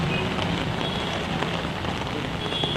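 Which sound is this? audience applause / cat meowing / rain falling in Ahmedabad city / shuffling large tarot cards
rain falling in Ahmedabad city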